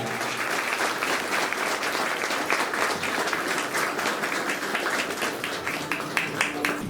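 Loud, continuous applause from an audience at a Konkan ceremony welcoming the descendants of Kanhoji Angre, with dense overlapping claps and a few sharper individual claps standing out.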